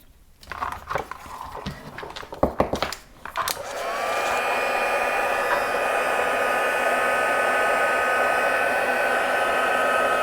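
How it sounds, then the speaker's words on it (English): A heat gun whirs steadily and loudly for several seconds, heating embossing during card making with chalk pastels, following a few short handling clicks and taps. "And we're going to give that a bit of a heat."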